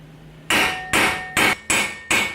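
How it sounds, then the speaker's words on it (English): Five loud, close hammer blows strike an extended lug bolt in a car wheel hub, landing at an even rhythm about half a second apart with a sharp metallic ring. "Now you're gonna take your hammer"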